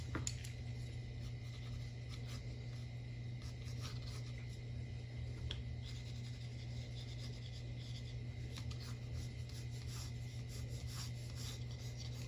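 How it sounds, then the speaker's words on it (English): Pencil sketching a simple coffee cup on a white canvas panel, a steady soft scratching and rubbing of graphite that runs the whole time at low level over a constant background hum. "I'm just sketching a normal cup of coffee."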